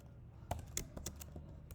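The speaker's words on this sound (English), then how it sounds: "It's so difficult typing fast, this one." Fast typing on a computer keyboard while writing Java code, a quiet close burst of irregular key clicks with a few sharper taps.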